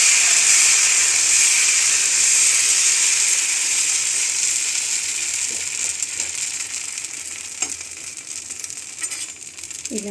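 Dosa batter sizzles on a hot pan in a steady, close, loud hiss that slowly eases, with a few faint clinks near the end.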